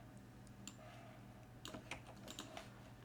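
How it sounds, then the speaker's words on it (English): Quiet typing on a computer keyboard, scattered soft key clicks with a short flurry in the middle, close but faint over a low room hum, no voices. "I'm gonna type this,"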